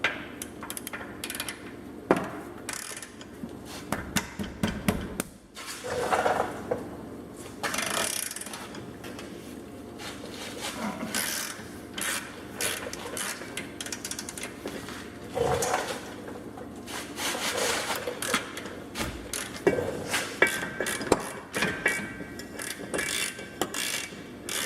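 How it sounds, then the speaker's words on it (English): Wrench work on brake caliper mounting bracket bolts of a Jeep WJ's Dana axle: irregular metallic clicks, ratcheting and clanks of tools and parts, close and fairly quiet, with no talk. "just go ahead and remove the two caliper mounting bracket bolts and take the whole assembly off in one shot"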